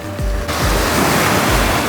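Ocean surf washing onto a beach in Aomori, Japan, a steady broadband roar of breaking waves with rhythmic low surges, close and loud with some wind buffeting the microphone.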